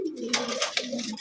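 A domestic pigeon coos close by in a low, throaty, wavering call, with a few soft rustling clicks around it.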